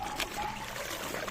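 Water trickles and pours softly while clothes are being washed, a quiet steady splashing close by.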